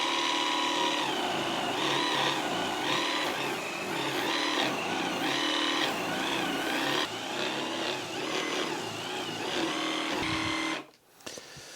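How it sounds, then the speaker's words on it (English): Ryobi SWIFTClean cordless spot cleaner running with its brush scrubbing coolant stains, a loud continuous whirring motor with wavering pitch as the brush works, cutting off abruptly near the end. "Let's agitate it with the brush."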